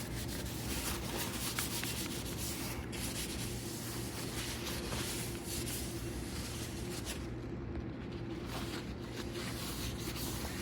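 Paper towels rub and wipe across a cast iron pan to dry it, a continuous scratchy scrubbing texture with small uneven strokes throughout.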